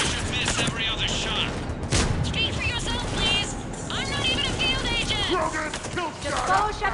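Rapid pistol fire in the shooter game Mass Effect rattles in dense bursts amid combat effects, with voices speaking throughout.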